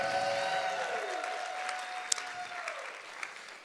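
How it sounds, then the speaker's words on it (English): An audience at a revival church service claps, a short burst of applause that starts full and gradually thins out over a few seconds. "let's give her a big hand clap"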